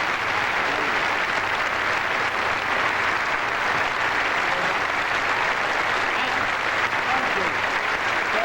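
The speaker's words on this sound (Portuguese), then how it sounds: "E agora são aplaudidos de pé, merecidamente." Standing ovation at the 1989 Oscars ceremony, a large crowd's applause roaring as a continuous, even wash of clapping, loud and sustained throughout with no breaks.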